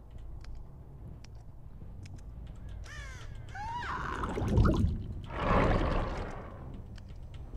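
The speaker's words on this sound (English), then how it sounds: "watch how quick these birds go off" Crows caw in the Dead by Daylight video game as the birds take off, several harsh calls close together mid-clip, followed by a flapping, rushing burst over a low ambient game drone.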